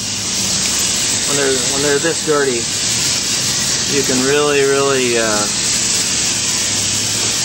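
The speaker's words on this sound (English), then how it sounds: "when you wash these, you can actually strip the dirt down as you're washing, keeping a good flow of water going" Water spray washes heavily soiled rooftop condenser coils, giving a steady, loud, broadband hiss that runs through the whole stretch while someone talks over it.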